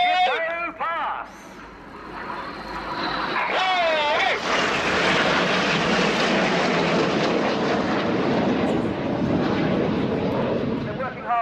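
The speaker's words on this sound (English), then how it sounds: "Their closing speed is a staggering 820 miles per hour as they fly Jippo Pass." Red Arrows BAE Hawk T1 jets roar past during a Royal Air Force flying display at RIAT 2017. The loud jet noise swells and then holds as a sustained rush, with a commentator talking briefly at the start.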